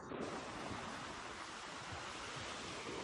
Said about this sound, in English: The waves are amazingly gentle here